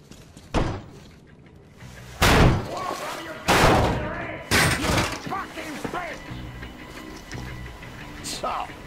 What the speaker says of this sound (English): The door's giving! Let's give it a shove, Artyom!